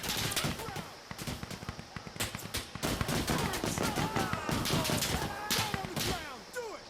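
Dense gunfire in the video game Insurgency Sandstorm during a pistol match: a continuous barrage of overlapping sharp shots, some close and loud, others farther off, cracking without pause for the whole stretch.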